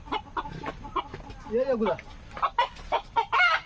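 A loose rooster that has escaped at a village party clucks close by in short bursts, mixed in with people talking excitedly.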